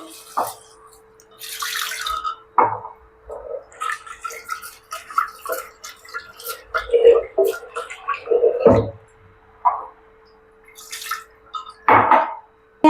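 Moong dal and sago being rinsed in water for sabudana kheer, with intermittent splashes, swishing and dripping close by, in irregular bursts separated by short quiet gaps.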